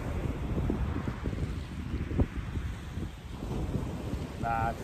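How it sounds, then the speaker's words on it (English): Wind buffets the microphone on Chesil Beach during winter fishing, a steady low rumble with gusts that rise and fall over the whole stretch, and a brief faint tone near the end. "Nah, just a bit of wind."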